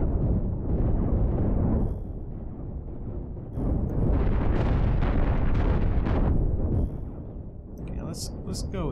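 Super cannons firing in the space-ship combat game Cosmoteer, heavy booming blasts in rapid bursts with quieter gaps between them, while a player talks over the barrage.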